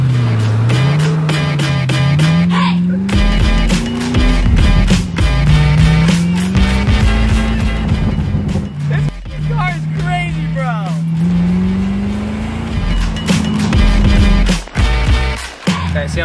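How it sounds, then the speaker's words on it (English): Car doing repeated burnouts, bump-started before a drive: loud engine roaring with rising and falling revs and tire-screech bursts, steady throughout with people talking and cheering in between. "See how well the burnouts do?"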